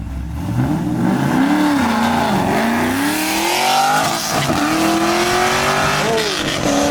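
A street race car on nitrous accelerates hard in Mexico, a loud engine roar climbing steadily in pitch with brief dips as it pulls through gears, close and dominant for the whole stretch, no talk.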